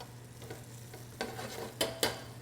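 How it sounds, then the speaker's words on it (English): Pancetta frying in a pan for bucatini carbonara, a low steady sizzle with several sharp scraping stirs, the last few louder and close. "just make sure your pancetta isn't burning. Give it a little mix around."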